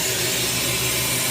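Drain valves opened on a freeze dryer after a pumpkin batch, releasing vacuum in a loud, steady rushing hiss of inflowing air, close and unbroken throughout.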